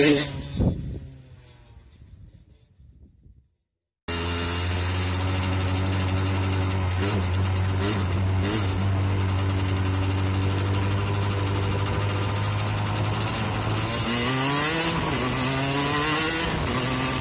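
A 50cc motorbike fitted with an Airsal kit sits quiet for about four seconds, then its engine bursts into a loud, steady high-revving buzz, the pitch climbing and wavering as it accelerates, close and alone.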